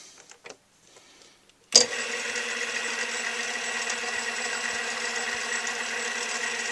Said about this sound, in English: now I can put this cutoff tool right in that there chamfer